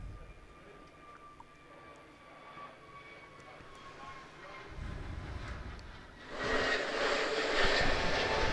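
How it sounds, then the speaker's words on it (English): A British Airways Airbus A321 airliner flies at Manchester Airport in wind and rain. Its jet roar starts faint under a steady hiss, then grows to a loud, broad rumble toward the end, with no talking. "British Airways A321 on its way back down to London Heathrow"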